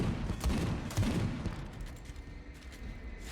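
Shotgun and storm bolter fire in the game Space Hulk Deathwing crackles in a dense burst of rapid booming shots over the first second and a half, then fades to a rumbling tail.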